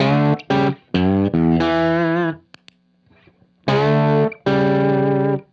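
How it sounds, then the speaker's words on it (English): An electric guitar played through an overdrive pedal rings out in loud, sustained distorted chords and notes, broken by short gaps and a near-silent pause midway before two more full chords. "that's just the overdrive pedal"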